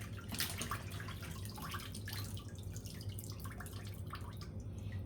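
Fish washed with lime and white vinegar left to drain: a steady close trickle and patter of dripping water, continuous and fairly soft with no talking.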